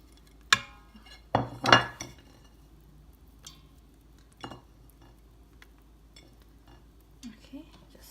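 A utensil stirs seasonings and garlic into braised fish in an Instant Pot, giving a few sharp metallic clinks and scrapes against the inner pot with quiet pauses between them.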